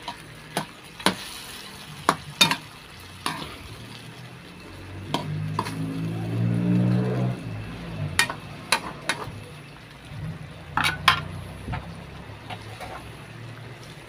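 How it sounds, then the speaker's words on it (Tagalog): A dish stirred in a frying pan, with soaked ingredients just added, gives intermittent spatula scrapes and knocks over a steady low sizzle that swells in the middle. No voices. "Haluin lang natin ng konti ito guys."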